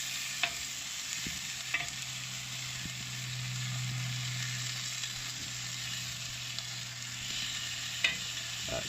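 Rabbit fillets sizzle and fry in a Lidl cast iron skillet, a steady close hiss with occasional stirring or turning clicks throughout.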